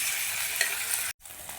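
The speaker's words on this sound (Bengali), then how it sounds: "কড়াইয়ে তেল দিয়ে অল্প পরিমাণ নুন দিয়ে পনিরগুলো দিয়ে ভালো করে ভেজে নিচ্ছি" Paneer frying in oil with a little salt in a wok, a loud continuous sizzle with stirring, briefly cut off near the end before resuming.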